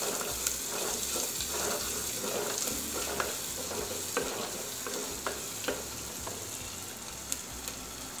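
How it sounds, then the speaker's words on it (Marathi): Garlic, onion, whole spices and green chillies sauté in a pan for a mutton paya soup, a steady sizzle broken by repeated scrapes and clinks of the stirring spoon, close and continuous with no talking. "लसूण, कांदा, खडे मसाले आणि मिरची छान परतल्या गेलेली आहे"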